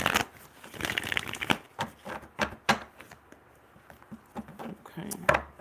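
A deck of Nightmare Before Christmas tarot cards is shuffled by hand, soft quick riffling and flicking bursts repeating at close range in a quiet room.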